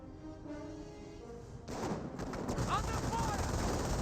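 Rifle fire and ongoing battle noise in the World War II strategy game Company of Heroes, a dense rumbling wash of distant shots that swells louder partway through, with a voice talking over it.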